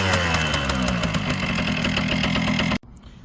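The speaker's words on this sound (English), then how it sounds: "Kawasaki KM100, just kick it." A kick-started Kawasaki KM100 two-stroke motorcycle runs close by with a loud, buzzy, steady idle for nearly three seconds before the sound cuts off abruptly.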